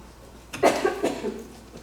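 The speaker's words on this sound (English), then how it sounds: "I'm about to cough." A single close cough with a couple of quick bursts, loud against a quiet background.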